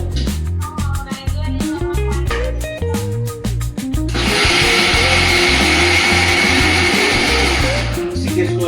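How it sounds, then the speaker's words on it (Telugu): A kitchen mixer grinder grinds soaked urad dal for idli batter, a loud continuous whirring drone that steadies into a harsh, sustained grinding roar partway through, with background music or voice underneath. "ఇప్పుడు ఉద్ది బ్యాళ్ళు నేను మిక్సీకి వేసుకుంటున్నాను."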